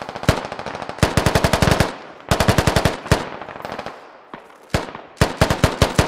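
Rapid automatic gunfire from the video game Squad Ops rattles in several loud bursts of sharp shots with brief gaps between them, with no voices over it.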